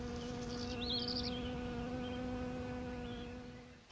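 Steady, close buzzing of wild bees nesting in sandy ground drones throughout, with a few higher whining passes, then eases off near the end.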